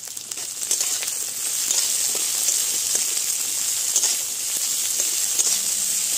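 Chopped onion and crushed garlic frying in hot oil with dried red chili and five-spice in a pan, a steady bright sizzle that holds evenly throughout with no talking.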